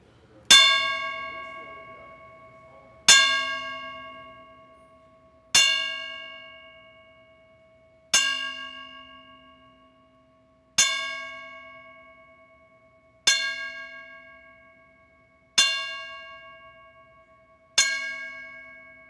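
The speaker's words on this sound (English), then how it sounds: "a special 10-bell moment of silence for the greatest, Muhammad Ali" A bell tolls in a ten-bell salute for Muhammad Ali at an MMA event, struck singly at slow, even intervals, each clear ring decaying into silence before the next.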